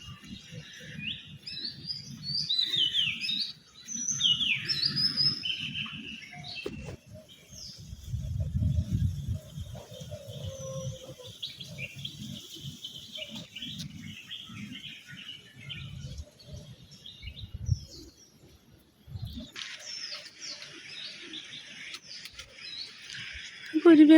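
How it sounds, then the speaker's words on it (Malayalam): Sparrows chirp outdoors in the morning, with scattered short tweets of varying loudness over a few seconds, mixed with low background noise and bits of nearby talk. "കുരുവിയൊക്കെ എവിടെയാണാവും അല്ലേ?"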